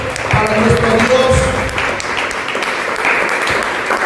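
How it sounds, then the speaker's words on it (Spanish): A church congregation claps loudly for God, steady dense applause from many hands that holds for several seconds while a voice speaks over it. "Vamos a dar un fuerte aplauso, mis hermanos. Fuerte ese aplauso para nuestro Dios."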